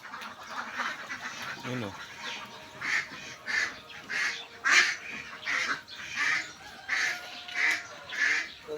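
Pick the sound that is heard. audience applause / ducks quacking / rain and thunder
ducks quacking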